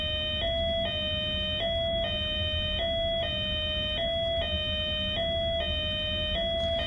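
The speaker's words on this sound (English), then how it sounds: "And there's usually an alarm that sounds like this." A loud electronic tornado warning alarm at a school sounds in repeated pulses, steady on-off beeps continuing for the whole stretch over a low rumble of background noise.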